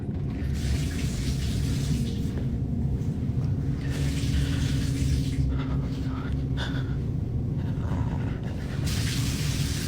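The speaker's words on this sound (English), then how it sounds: "Water in my tub, turning on and off and on and off." Water runs from a bathtub tap, a steady splashing rush that cuts off and starts again several times, moderately close in a quiet room.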